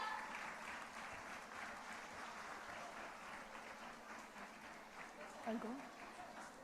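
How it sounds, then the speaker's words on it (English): An audience at a girls' school annual day gives a round of applause for a student, a steady wash of clapping heard from a distance with voices mixed in. "Can we have a huge round of applause for the budding star?"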